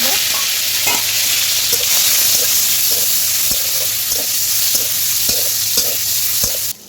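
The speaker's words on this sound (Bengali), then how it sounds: "কড়াতে তেল দিয়েছি, এখন চিংড়ি মাছগুলো ভেজে নেব।" Prawns frying in oil in a wok: a loud, dense, continuous sizzle close by, with scattered spoon taps as they are stirred, cutting off abruptly at the end.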